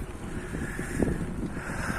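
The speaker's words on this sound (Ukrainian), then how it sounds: "Вітер майже всю дорогу нам в обличчя." Wind buffets a microphone in a constant low rumble with airy hiss, blowing head-on during a bicycle ride, brief and close, with no voices.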